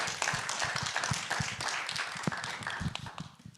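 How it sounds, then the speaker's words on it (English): Scattered clapping from a conference audience, a modest round of applause with uneven individual claps, fairly close, with no talk over it. "Give them another round of applause."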